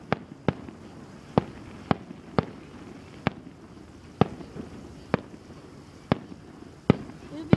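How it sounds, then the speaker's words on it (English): Fireworks bursting in a steady series of about a dozen sharp, loud cracks spaced roughly half a second to a second apart, with people talking quietly underneath between the bangs. "I love fireworks. Oh, now this is gonna be loud."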